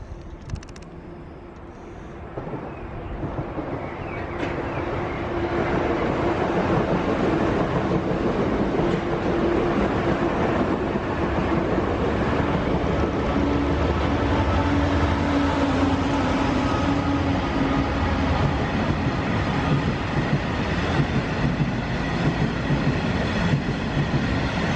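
A freight train rolls past on a railway line. Its heavy, steady rumble and wheel clatter build in the first seconds and then stay loud and close without letup.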